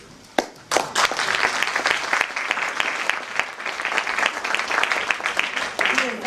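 Audience applause breaks out after an Italian poetry reading, starting with a few claps, then swelling into sustained, fairly close clapping with voices mixed in.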